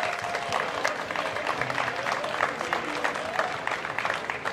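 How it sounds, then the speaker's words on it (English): A round of applause from a crowd at a school kick-off event, moderate and continuous but somewhat distant and soft, with no speech over it. "So round of applause for those guys."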